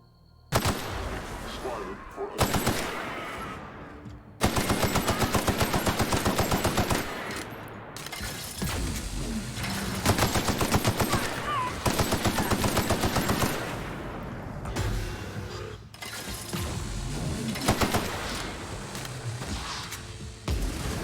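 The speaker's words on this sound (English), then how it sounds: "shooting him in the face seems to be doing something" Rapid automatic gunfire from shooting at an enemy in The Outer Worlds, loud and sustained in several long bursts separated by brief pauses, with game music and effects around it.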